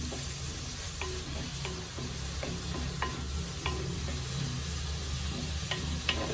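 Onions frying in a pan for Kerala-style ayala mulaku curry, a steady soft sizzle with faint occasional stirring scrapes and no talking.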